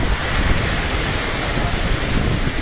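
Floodwater churning during a typhoon along a flooded coastal road, a loud continuous rushing wash mixed with heavy wind buffeting the microphone, steady and close throughout.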